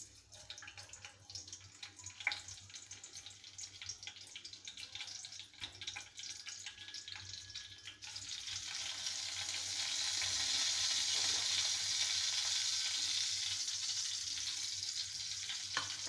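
Cumin seeds and five-spice seeds frying in hot oil for cabbage curry, soft crackle and stirring at first, then a loud steady sizzle swelling as they hit the oil, close and continuous with no talk.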